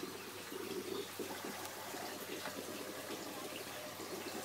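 Water runs steadily through a homemade aquaponics cyclone filter full of debris, a continuous close splashing and trickling flow that holds an even level throughout, with no voices.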